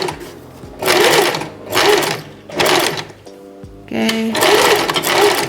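An Empisal Expression 889 sewing machine stitches a buttonhole, running in loud, close bursts of rapid mechanical whirring with short pauses between, and one brief spoken word in a pause.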